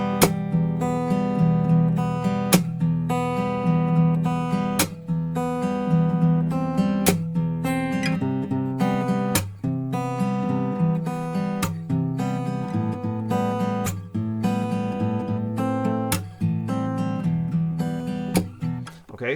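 An acoustic guitar plays the melody of a song over sharp, regular percussive slaps and strums, keeping a steady rhythmic pulse throughout, close and fairly loud.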